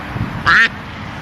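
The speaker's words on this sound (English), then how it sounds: "There's a duck, everybody." A single loud, nasal duck quack, close by, standing out briefly against quiet outdoor background.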